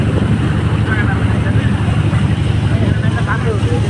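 A boat engine drones steadily on the wide waters of Chalan Beel in Bangladesh, a close, loud and even low rumble with buffeting, and voices faintly under it.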